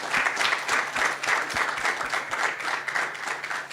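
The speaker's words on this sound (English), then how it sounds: "Let's clap the three participants." Audience applause for three participants at a high-level launch event on women in conflict zones, with steady clapping that swells and eases slightly and a rhythmic low thumping underneath.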